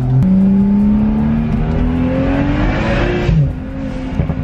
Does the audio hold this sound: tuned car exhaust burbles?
yes